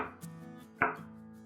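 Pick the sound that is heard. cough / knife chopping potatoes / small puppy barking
knife chopping potatoes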